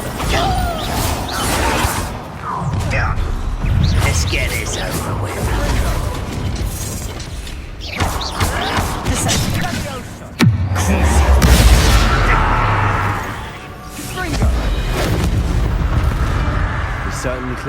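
A Bombarda blasting spell in Hogwarts Legacy goes off as a loud, booming explosion with a heavy low-end crash, set within busy game noise and spoken voices.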